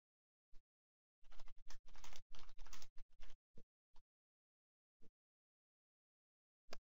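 Keys clatter on a computer keyboard as a desktop name is typed in, a quick dense burst of taps in the middle with a few isolated keystrokes before and after, close and fairly quiet.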